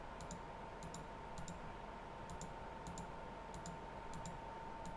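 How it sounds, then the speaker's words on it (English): A computer mouse clicking in quick double taps, repeated at a steady, regular pace, faint and close over a constant electrical hum. "this mouse letting go the clicky thing is driving me nuts"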